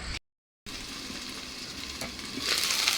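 Okra and potatoes fry in a pan, giving a continuous close sizzle broken by a brief dropout near the start, then brightening toward the end.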